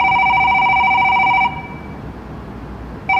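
A telephone ringing with an incoming call, a loud electronic two-tone ring that sounds for about a second and a half, pauses, then starts again at the end, close and clear with no voices.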